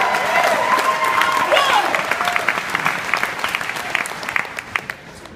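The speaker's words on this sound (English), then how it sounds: "Everybody should be clapping." A conference audience in Ocean Shores claps for themselves, loud sustained applause with some voices mixed in, thinning toward the end into scattered individual claps.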